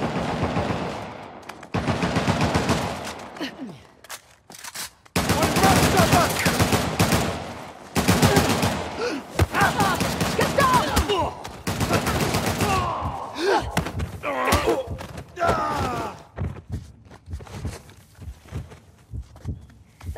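Heavy gunfire in Uncharted The Lost Legacy, with long bursts of automatic fire and sharp single shots, broken by short silences over twenty seconds, loud and close with footsteps and occasional shouted voices mixed in.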